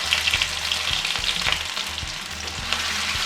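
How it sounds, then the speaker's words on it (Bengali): Chopped capsicum with ginger garlic paste sizzles in refined oil, a continuous close frying hiss broken by repeated spoon scrapes and knocks against the pan. "এবারে 1 মিনিট মতন একটু ভালো করে ফ্রাই করে নেব।"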